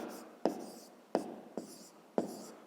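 Pen on paper writing numbers by hand during a fifth-grade math exercise: four sharp taps of the pen touching down, each followed by a short scratchy stroke, close and quiet with no voice.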